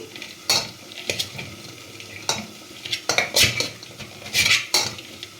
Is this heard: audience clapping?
no